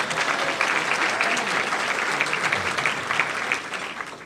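An audience claps steadily at a 2010 Chicago Public Schools event, welcoming an honored guest standing up: dense, even applause that stays full throughout, with no voices over it.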